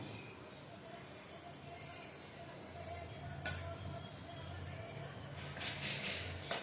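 Rice flour snack pieces with onion frying in hot oil, a steady close sizzle with occasional stirring scrapes, continuous throughout with no talking.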